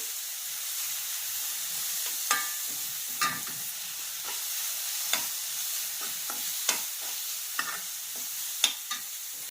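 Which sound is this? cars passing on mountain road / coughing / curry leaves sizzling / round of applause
curry leaves sizzling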